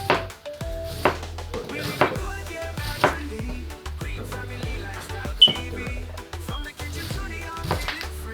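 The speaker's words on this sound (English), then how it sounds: "I'm just making slices so I could have the cabbage diced" A knife slices through cabbage on a cutting board in steady strokes, roughly one sharp thud per second, close and clear over soft background music.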